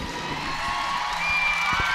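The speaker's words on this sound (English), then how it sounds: "you hear the crowd cheering her on as she goes back up to the bar" A crowd cheers at a Nebraska at Iowa college gymnastics meet as a gymnast climbs back onto the bar. The roar is steady and broad, swelling slightly toward the end, with no clear talk over it.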